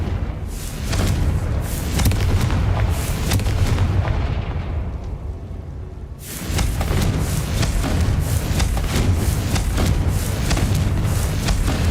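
Confringo blasting spell in Hogwarts Legacy, a dense barrage of loud booming explosions and impacts, dropping briefly to a rumbling lull before the blasts resume at full strength.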